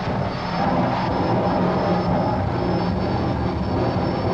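Two drag race cars powered by Westinghouse J34 jet engines with afterburners fire down the strip, a loud, steady, broadband jet roar holding for several seconds with no talk.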